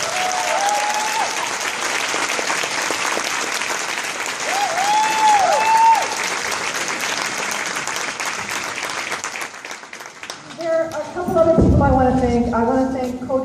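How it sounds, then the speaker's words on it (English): Sustained audience applause fills a school winter concert hall, steady and dense for most of the stretch, with voices and crowd murmur rising as clapping thins near the end. "So please, let's hear another round of applause for great people."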